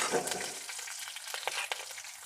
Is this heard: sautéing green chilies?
yes